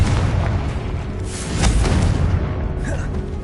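Confringo fire spell blasts from Hogwarts Legacy, a dense booming burst swelling loud in the middle and rumbling on, with a short later crackle, set against steady game noise.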